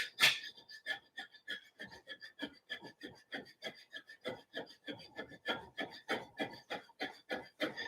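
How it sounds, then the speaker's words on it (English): Rhythmic, breathy puffs of forced exhaling while bouncing repeat in quick succession, close and fairly soft, with no talking. "you can just bounce, and you can force that air out every time you hit the bottom of your bounce"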